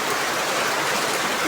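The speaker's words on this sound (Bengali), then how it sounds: "আমাদের এখানে সাভার আশুলিয়াতে প্রচুর বৃষ্টি হচ্ছে" Heavy rain pouring in Savar Ashulia, a dense steady hiss of downpour filling the short stretch evenly and loudly with no gaps or other sounds.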